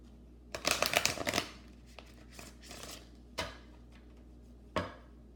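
Romance Angels oracle cards being shuffled in quick riffling bursts, a dense flurry near the start and then two isolated sharp card snaps later, close and fairly quiet with no talk.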